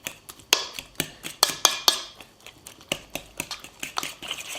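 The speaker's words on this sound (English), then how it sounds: "and just mix it very nicely and make it into a lovely dip" A fork scrapes and clinks against a bowl while mixing a grilled aubergine dip, with a steady run of short, sharp metallic taps close by and no talk.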